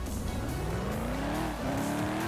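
A car driving in the Roblox game ER:LC, its engine a steady loud drone with pitch slowly rising and dipping as it accelerates and shifts, heard close and alone.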